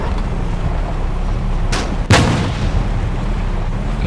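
A tank cannon fires in the video game War Machines: two sharp booming shots about a third of a second apart, the second louder with a low thump, over steady game background noise.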